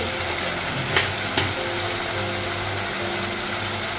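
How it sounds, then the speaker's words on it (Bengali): Spices frying in a pan on a gas stove, a steady close sizzle with a couple of sharp clinks of a utensil against the pan. "মশলাটা একটু ভেজে দেবো।"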